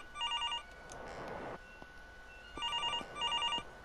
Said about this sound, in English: Someone's ringing me.